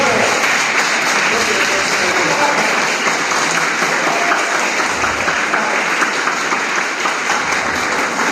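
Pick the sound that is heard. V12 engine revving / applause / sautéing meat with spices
applause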